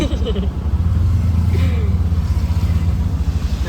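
Road traffic in a jam rumbles close by as engines idle and throb unevenly, with a nearby motorbike or car dominating.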